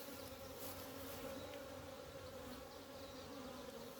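Honey bees drone steadily from an open beehive during an inspection, a dense continuous buzz with a low hum, close by and unbroken, with no voices.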